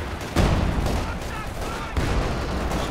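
An artillery barrage in a real-time strategy video game, with several heavy booming impacts landing in quick succession over continuous rumbling battle noise.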